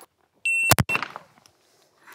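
At a pistol range, a shot timer gives one sharp electronic beep, followed right away by a loud gunshot and a brief echoing tail in an otherwise quiet setting.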